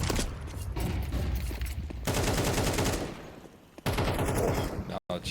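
Rapid bursts of gunfire in the video game Counter-Strike 2 during a tournament match, with loud, sharp rattling shots and brief gaps, mixed under a caster's excited commentary.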